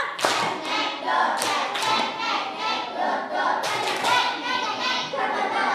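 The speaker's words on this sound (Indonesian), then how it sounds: "Tepuk 2. Tepuk 3. Tepuk 1, 2, 3." A class claps out a rhythmic counting pattern in bursts of one, two and three claps, sharp and close, separated by brief pauses, with faint voices in between.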